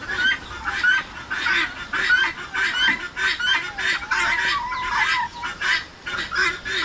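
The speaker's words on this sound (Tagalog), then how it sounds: "Manok ang lumapit." Chickens cluck and squawk in quick repeated bursts close by, a busy, continuous chorus of fowl calls among geese, turkeys and guinea fowl at feeding.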